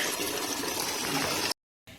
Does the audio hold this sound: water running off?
yes